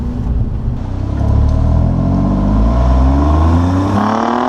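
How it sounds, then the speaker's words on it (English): A 2017 Alfa Romeo Giulia Quadrifoglio accelerates inside a parking garage, its engine note rising and swelling into a loud, echoing roar that holds strong, with no talking. "all I needed to do for this video is just show and play acceleration noises"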